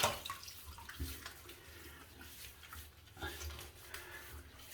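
Hot water runs steadily from a bathroom tap while a man prepares to lather his beard for a wet shave, a soft continuous splashing with a few brief bumps and clinks.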